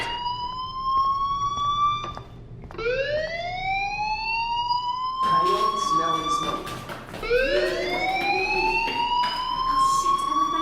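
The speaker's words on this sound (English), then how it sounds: "Hey, do you hear that fire alarm?" A repeating electronic fire alarm in the video game Life Is Strange, rising whooping sweeps that start, pause and restart, loud and steady over a low background hum.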